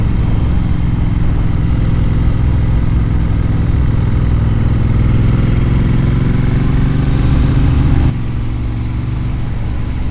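A motorcycle rides along a road on La Gomera in the Canary Islands, its engine droning loud and continuous up close with wind rush, the pitch rising gradually before the tone shifts near the end.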